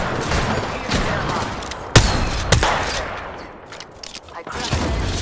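Revenant's weapon in a video game fires a few loud, sharp bursts of gunfire, with a couple of strong shots standing out among quicker rattles over a busy game background.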